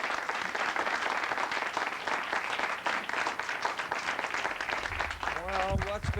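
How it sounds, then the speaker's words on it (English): Steady applause from a community audition audience at a 1981 jazz band event, fairly distant and continuous, with a voice starting to speak over the clapping at the end. "how about a nice round of applause for Christina Dietrich"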